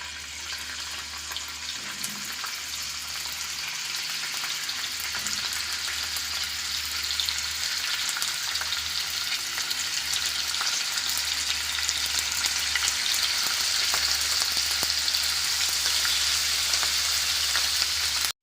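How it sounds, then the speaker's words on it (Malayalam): Chicken pieces fry in hot sunflower oil in a pan for restaurant-style chicken fried rice, giving a steady, dense sizzle with crackling pops that gradually grows slightly louder, with no talk. "ചൂടായി വരുമ്പോഴത്തേക്ക് നമുക്ക് ഈ ചിക്കൻ പീസസ് ഇതിനകത്തോട്ട് വെച്ച് കൊടുക്കാം"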